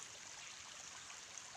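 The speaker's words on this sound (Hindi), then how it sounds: "बहुत पानी बह रहा है यहाँ पे।" Clear water flows steadily along a canal stream in the mountains of Himachal, a soft, continuous rushing wash that stays even and fairly faint throughout, with no talk.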